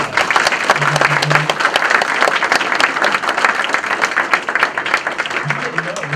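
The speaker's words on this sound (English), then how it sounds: "how about one last round of applause for all of our winners?" A full room claps in a final round of applause for the winners at a waste reduction and recycling awards event near San Diego International Airport, dense and loud throughout with voices mixed in.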